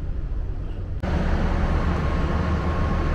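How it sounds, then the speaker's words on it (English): Train at a Greek railway station bound for Florina, a steady loud rumble of engine and rolling stock starting abruptly after a brief quieter moment, then continuing without a break. "That's the train that will be taking me to Florina."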